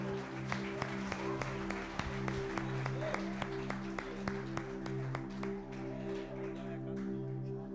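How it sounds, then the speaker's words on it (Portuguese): A church congregation claps in a steady rhythm over sustained keyboard chords, the sharp hand claps repeating evenly throughout before easing near the end. "uma salva de palmas para o Senhor"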